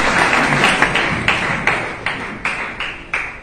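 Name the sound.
congregation applause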